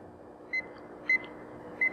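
Three short electronic beeps from a heat press timer being set, evenly spaced about half a second apart over a quiet low hum.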